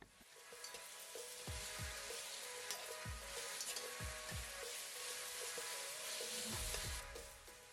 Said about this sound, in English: add 2 tablespoons of ginger garlic paste and fry this for about a minute